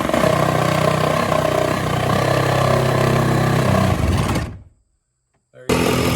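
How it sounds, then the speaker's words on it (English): A Sawzall reciprocating saw cutting through wood on a porch cover during a house build, a loud continuous buzzing cut lasting about four seconds that stops abruptly, followed by a short silence and then the saw starting again. "we just come on the inside here with the Sawzall and cut it out"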